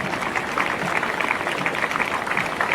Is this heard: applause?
yes